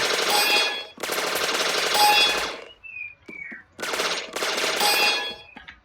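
Machine-gun fire in the video game HoloDrive: two long sustained automatic bursts, a short pause with faint metallic pings, then two more bursts, loud and close with no talking.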